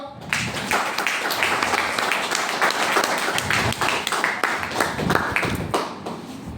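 An audience gives the director a round of hand clapping. The dense, fairly loud patter runs steadily for several seconds and fades out at the end.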